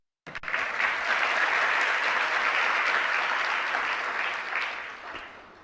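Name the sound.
audience applause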